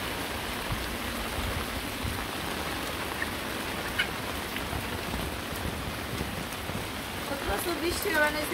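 Rain falls steadily on a rainy day, a dense, even hiss of drops that holds throughout at moderate volume.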